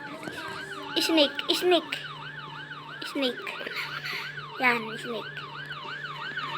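Wailing police siren from the Roblox game Brookhaven, sweeping steadily up and down and running continuously at moderate volume while a voice speaks over it with brief game sound effects.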